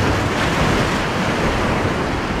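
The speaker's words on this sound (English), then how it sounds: "look at these waves" Rough surf pounds the shore while fishing for sheepshead in New Jersey, a loud unbroken roar of crashing waves mixed with wind buffeting the microphone.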